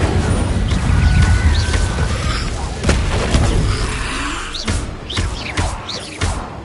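Blasts of the Incendio fire spell erupt in a Hogwarts video game: a rumbling burst opens, then sharp cracks and booms land at irregular intervals amid whooshing game effects, loud and close.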